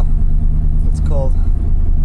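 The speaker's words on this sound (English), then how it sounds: "Idle's coming up." A car engine running on E85 idles while warming up on a cold morning, a loud steady low drone with the idle gradually rising, and a brief tonal whine partway through.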